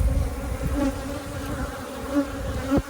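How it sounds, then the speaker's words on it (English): Honey bees buzz steadily in a loud, dense swarm at the entrance of a hive under robbing, a close continuous drone with no talk. "But this hive's got bees in it."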